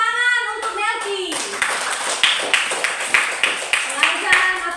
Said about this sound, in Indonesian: Tepuk tangan untuk Melki